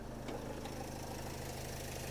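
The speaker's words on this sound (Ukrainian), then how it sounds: "Робить моторчик просто відмінно" A 2010 Opel Vivaro long-wheelbase van with a 2.0 115 hp engine idles close by, a steady low rhythmic diesel-like chug filling the clip with no talking.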